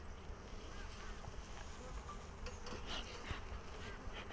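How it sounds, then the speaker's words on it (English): Honeybees buzzing around an open hive frame as they feed on stored nectar, a steady faint drone with close wingbeat hums drifting in and out. "we've got these little bees here lapping up a little bit of"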